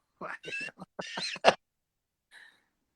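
A human voice mimics a cat's meow, giving a few drawn-out, rising mewing cries in a close, fairly loud burst, followed by a faint, brief squeak after a pause.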